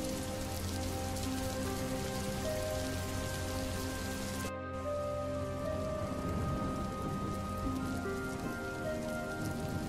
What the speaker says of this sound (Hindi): इतनी ठंड में यह जोरदार बारिश भी होने लगी